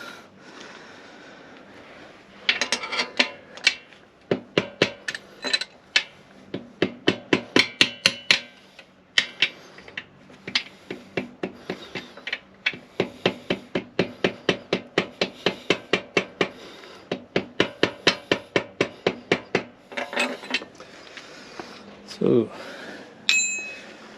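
Repeated metallic hammer blows in rapid bursts of strikes, with short pauses between runs, fairly close and loud, with some breathing in the background.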